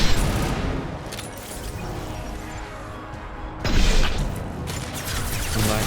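Sustained gunfire and impacts in the sci-fi shooter Mass Effect 2, dense and loud throughout, with a sharper burst of shots near the two-thirds mark and no talking.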